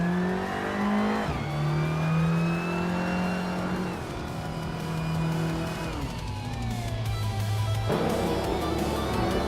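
Race cars lapping during a race, their engines droning loudly and continuously, with pitch climbing and dropping sharply through several gear changes and passes.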